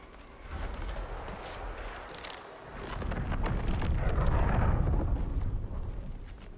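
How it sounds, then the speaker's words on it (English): A Volt gun fires in the video game Marathon, a muffled distant boom followed by a swelling, rumbling roar that builds and lingers for several seconds, with no voices. "I heard a gunshot somewhere. It was a Volt gun."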